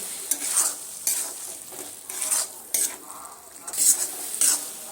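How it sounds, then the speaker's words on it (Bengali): Tomato with spices sautéing in a pan for an egg poach dish, with loud, close sizzling and repeated stirring scrapes in bursts and no talk. "মশলাগুলো দিয়ে আমি আবারও সুন্দর করে মিনিট পাঁচের সময় নিয়ে টমেটোটা সুন্দর করে কষিয়ে নিতে হবে"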